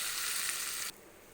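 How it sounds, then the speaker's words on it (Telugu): A tempering of urad dal, one dried red chili and a sprig of curry leaves sizzles loudly in hot oil for a coconut-tomato chutney, a steady close hiss that cuts off abruptly near the end. "ఇలా పోపు వేగిన తర్వాత పచ్చడిలోకి వేసుకోవాలి"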